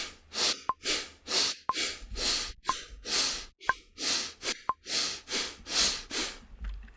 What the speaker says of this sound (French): On va accélérer le rythme respiratoire.